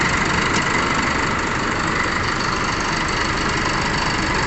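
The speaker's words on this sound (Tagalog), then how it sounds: "tumutunog pagka umaandar yung makina" A Chevrolet Trailblazer SUV engine idling loudly with a constant rumbling drone and a rough, noisy rattle from the clutch fan throughout, no voices.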